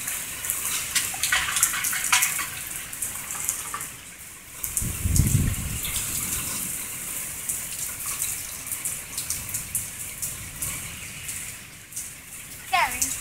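Thunderstorm floodwater rushing through a street in Kaposvár, a steady broad wash of water and rain with a louder low surge midway, voices talking nearby over it.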